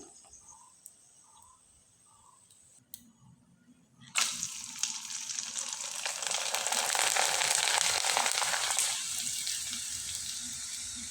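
Watermelon rind chips drop into hot oil and burst into a loud, steady deep-fry sizzle that swells and holds, following a few faint quiet chirps before the batch goes in.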